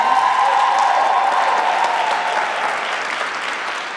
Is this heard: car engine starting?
no